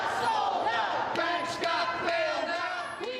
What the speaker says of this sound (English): A crowd that numbered several thousand or more jammed the rally site